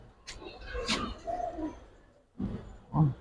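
Young pigeons, Giribaz, silver and army breeds, coo softly in a loft, a few low throaty calls with pauses between them, fairly close, along with faint handling noises.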